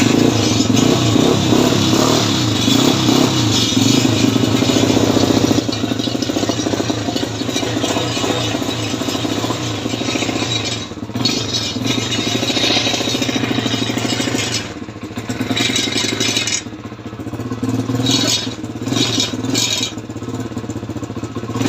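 A BMW 320i engine runs loud and rough right after starting with the choke pulled, a close steady rattling drone that dips and surges unevenly over time.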